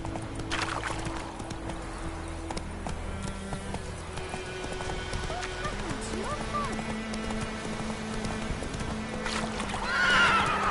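Roach the horse from The Witcher 3 gallops with steady clip-clop hoofbeats and lets out a whinny, set against game music and ambient noise, with a voice speaking over it.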